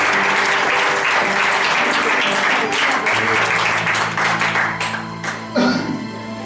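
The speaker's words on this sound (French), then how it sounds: "Acclamez très fort." A church congregation applauding loudly, dense clapping with cheers that thins and fades toward the end while a voice calls out over it.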